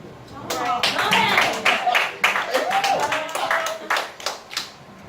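Audience at a live spoken-word poetry show breaking into a round of applause, a burst of close clapping with scattered claps and a voice or two over it.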